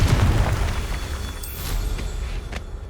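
A Confringo explosion spell in the video game Hogwarts Legacy goes off as a loud, close blast with a deep boom. A crackling tail and a few sharp pops follow as it fades.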